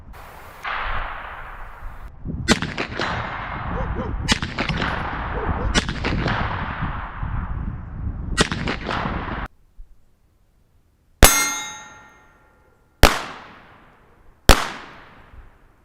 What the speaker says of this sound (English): I shot 3 because I'm 200 yards away, so I want to make sure I get it.